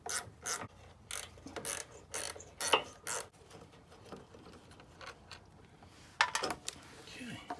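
A ratchet wrench clicks in short, sharp bursts as it backs out 7/16 bolts holding a license plate on a jonboat trailer, with pauses between strokes, close to the mic.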